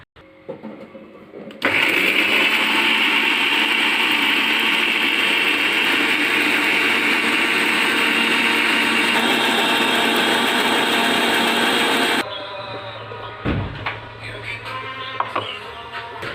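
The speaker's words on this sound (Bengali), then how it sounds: "এবারে মিক্সির বাটিতে দিয়ে মশলা করে নিচ্ছি।" A kitchen mixer grinder whirs loudly and steadily for about ten seconds while grinding garlic cloves, ginger pieces and four or five dried red chillies into a spice paste. It then stops abruptly, leaving quieter kitchen handling sounds.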